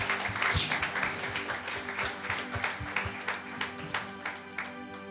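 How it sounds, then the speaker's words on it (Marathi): A church congregation claps hands together, a dense patter of many palms with some rhythmic beats standing out, moderately loud and steady over several seconds. "देवानं जो काही वारी आत्मा आमच्यासाठी पाठवला त्या आत्म्याबद्दल एकदा टाळ्या वाजवूयात"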